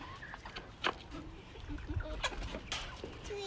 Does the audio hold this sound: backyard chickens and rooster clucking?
yes